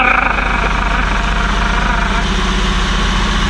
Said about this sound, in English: Maybe that's what straight sixes sound like.